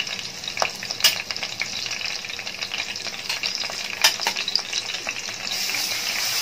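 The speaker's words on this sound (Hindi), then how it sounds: "अच्छे से फ्राई करेंगे।" Curry leaves and chopped green chilies frying in oil over a medium flame, a constant crackling sizzle with occasional sharp spatters and spoon scrapes, close and steady throughout.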